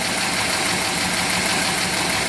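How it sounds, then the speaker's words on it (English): A 312 Y-block V8 engine with dual four-barrel carburetors idles loudly and close while warming up, a dense, steady rumble with a slightly uneven, lumpy throb throughout. "we're just gonna let this whole engine here warm up a bit"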